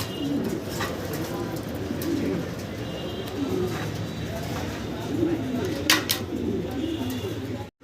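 Pigeons coo steadily in a pigeon house holding large birds, among them black checkers, the soft repeated coos close by and continuous, with other bird chirps and occasional voices mixed in.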